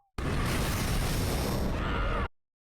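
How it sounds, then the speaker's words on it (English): Cartoon explosions from the Hazbin Hotel pilot animation: a sudden, loud, dense blast that roars steadily for about two seconds, then cuts off abruptly into silence. "just the fucking smoke clouds and explosions"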